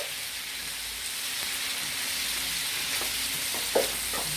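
Goat liver masala frying on a tawa, with a steady broadband sizzle across the clip and a few soft stirring taps near the end.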